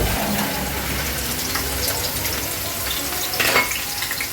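Onions fry in hot oil in a pot for a chicken roast, a steady close sizzle with brief stirring scrapes and a louder crackle near the end, no voices.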